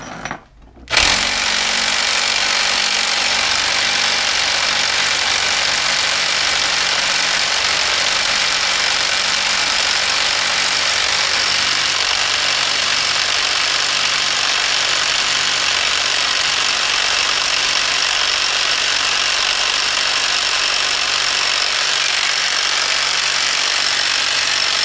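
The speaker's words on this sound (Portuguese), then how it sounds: "gira o motor e o troço não solta." An Audi 80 engine runs steadily and loudly the whole time during an attempt to free a stuck part, a constant broadband drone after a brief quiet start, with no talk.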